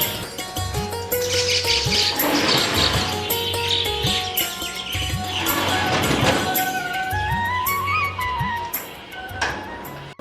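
Busy birdsong with many chirps and tweets overlapping continuously, close and fairly loud, with a repeating low cooing-like pulse underneath.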